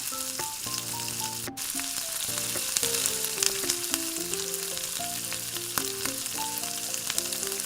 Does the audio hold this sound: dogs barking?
no